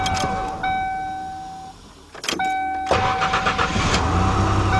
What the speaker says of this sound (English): You want to make sure that starter is definitely engages and no issues.